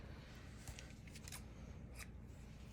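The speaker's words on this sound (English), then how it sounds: "So I'm just gonna cut off a piece here" Scissors cut a piece of string in a quiet craft setting, making a few short, faint snips spaced over a couple of seconds.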